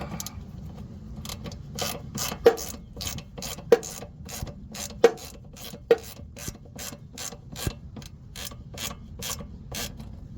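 Ratchet driving a 10mm deep socket to tighten bolts on a Honda Accord ABS sensor: a steady series of sharp, evenly spaced clicks heard up close, with a few louder knocks between them.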